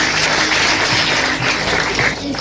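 Sustained applause from a church congregation at a Christmas celebration, dense and loud with many hands clapping together throughout.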